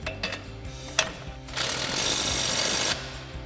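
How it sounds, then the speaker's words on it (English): Impact wrench with an 18 mm swivel socket tightening a coil-over bolt on a 2019-2023 Chevrolet Silverado 1500 during an Eibach Pro-Truck coil-over install: a few brief taps, then a loud, steady hammering burst of about one and a half seconds, close up. "Then we'll go ahead and tighten that back down with our 18 mil swivel socket on our impact."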